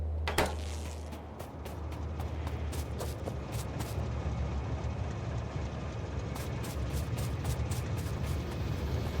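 In the video game Factorio, a train rolls past in a continuous low rumble with repeated clicking rail clacks. It is fairly close and steady, and no one speaks.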